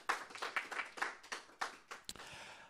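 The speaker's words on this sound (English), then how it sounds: "Can we give the opposition team a round of applause?" Sparse audience clapping after a university debate between University of Pretoria and North West University, individual hand claps in an irregular patter, fairly faint and thin rather than a full roar.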